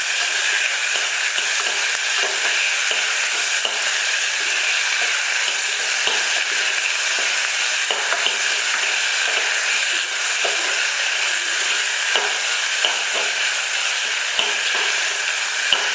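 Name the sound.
onion, garlic and tomato sautéing in oil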